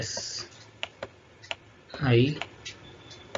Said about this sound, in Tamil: நான் வந்து இங்கே டைப் பண்ணுறேன், நீங்கள் பார்க்கலாம்.